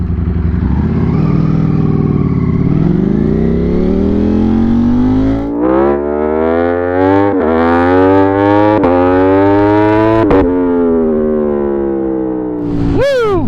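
Loud car exhaust revving hard and accelerating through the gears, with a deep snarling harmonic tone rising and dropping at each shift, close and continuous, ending in a sharp high rev.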